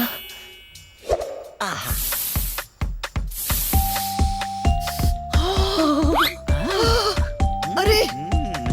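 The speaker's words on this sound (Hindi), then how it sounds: "वो खुशबू वाला नहीं बल्कि खुजली वाला स्प्रे था।" An itching spray squirts from a perfume bottle in a few sharp hissing bursts, followed by cartoon-style chimes and dings.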